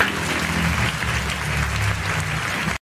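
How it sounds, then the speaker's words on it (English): A classroom group applauds steadily for nearly three seconds at the close of a coordinate geometry lesson, the clapping dense and even before stopping abruptly. "let's give us applause"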